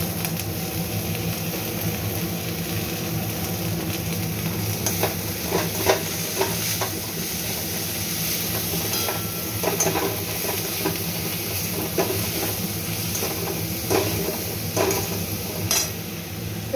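Kulekhara greens, freshly washed, hit a hot pan and sizzle steadily while being stirred, with soft scraping and occasional clinks of the utensil against the pan standing out over the continuous frying hiss; no one speaks.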